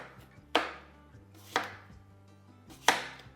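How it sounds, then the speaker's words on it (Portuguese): Dates are chopped with a knife on a cutting board, three sharp, close knocks about a second apart over a quiet background. "Vou picar bem aqui, porque a gente vai processar no liquidificador"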